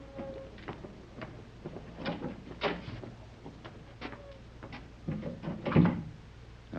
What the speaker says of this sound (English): I'll go ahead and open the door.